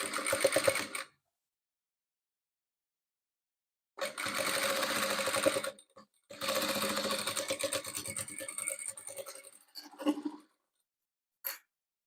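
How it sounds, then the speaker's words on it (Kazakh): A sewing machine stitching patchwork pieces runs in three bursts, a short one then two longer rapid rattling runs separated by silence, followed by small clicks, close and alone. "Енді осыларды тігіп аламын."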